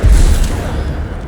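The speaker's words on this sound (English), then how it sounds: "Incendio." Incendio fire spell cast in the Hogwarts Legacy video game on PC: a single loud, deep burst that trails off within a second or so, heard alone.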